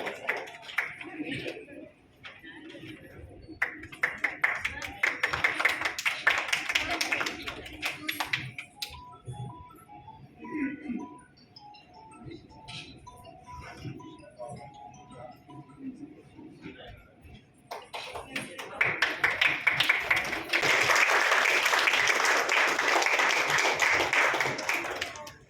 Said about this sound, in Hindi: जोरदार तालियों से इनका स्वागत अभिनंदन कीजिएगा